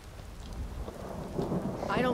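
Rain falls steadily in the Skyrim video game as low thunder rumbles beneath it, the storm swelling slightly louder toward the end, with no speech.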